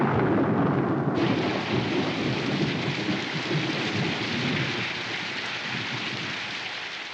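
A thunderstorm with heavy, dense rain hisses steadily, and a deep rumble of thunder underneath slowly fades as the downpour continues without any voices.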